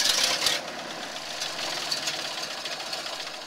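An engine on an Amish tour vehicle, freshly fitted with a new carburetor, turns over and catches, settling into a steady mid-pitched rumbling idle after a rougher first half-second, close and moderately loud.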